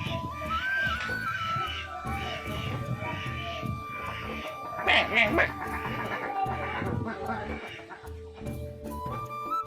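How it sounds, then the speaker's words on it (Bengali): Farm ducks on a village pond used for duck rearing near paddy fields give scattered quacks, with a brief louder burst midway, mixed under steady nearby talk by a man. "আপনাদের হাঁস দেখুন, হাঁসগুলো আসছে"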